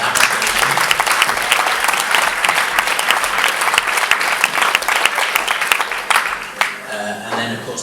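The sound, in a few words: round of applause for a cyclist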